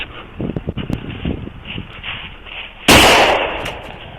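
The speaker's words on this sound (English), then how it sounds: "Shots fired! Shots fired!" Gunfire during a police traffic stop, with a few sharp bangs early on followed by a loud, harsh burst that continues to the end.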